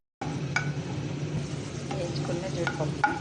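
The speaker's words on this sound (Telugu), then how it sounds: "కొద్దిగా నెయ్యి వేసుకొని ఇలా జీడిపప్పులు ఇవి వేయించుకోవాలి" Cashews frying in a little ghee for a vermicelli sweet, a low steady sizzle with spoon stirring and a few metallic clinks against the pan, close by.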